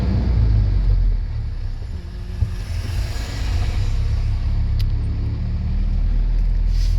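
Road traffic by the bypass market in Sakon Nakhon, Thailand, on a cold morning: a steady, low rumble of passing vehicles that swells and eases slightly throughout, with no voices.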